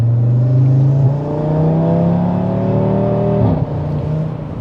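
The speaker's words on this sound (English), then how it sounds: "just driving it in normal mode" An Audi RS3 fitted with an ECS intercooler drives in normal mode, its engine droning steadily and then building revs with rising tones before easing off, loud and close with no talk.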